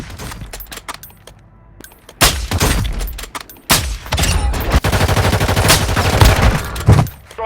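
Loud video-game gunfire from Warzone Mobile: scattered single shots give way to sustained bursts of automatic fire with booming impacts, crowding the mix for several seconds.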